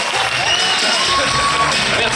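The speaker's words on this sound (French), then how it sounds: "Je vous demande d'applaudir très très fort Eric et Ramzi." A theatre audience at a film screening event with the filmmakers present, clapping and cheering loudly in a dense, continuous wash of applause, with whoops rising over it.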